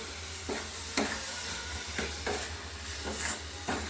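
Grated coconut is stirred into date palm jaggery for pitha, with a soft, steady sizzle. Rhythmic scraping strokes of the spoon come roughly every half second, close and fairly quiet.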